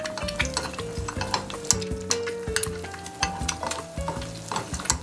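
Food is lowered into a hot oil bath in a home kitchen and sizzles steadily with crackling spits and stirring clatter, while tonal background music plays underneath.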